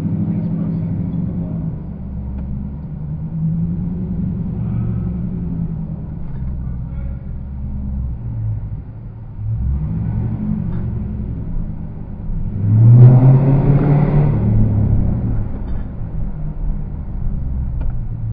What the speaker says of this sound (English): I'm about to hit the gas.